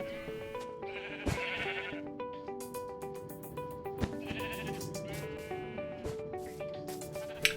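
Sheep in a Minecraft Bedrock Edition farm enclosure bleat repeatedly in overlapping, wavering cries, close and fairly loud, with soft rustling and clicks between calls and no talk.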